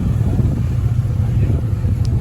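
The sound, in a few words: Toyota MR2 driving away at a car meet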